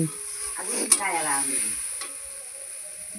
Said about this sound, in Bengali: আমি বসে বসে আমার দিদার রান্না দেখছি